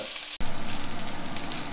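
A thick grass-fed beef steak hits a hot pan and sizzles loudly and continuously right after a brief quiet moment, close and alone without talk.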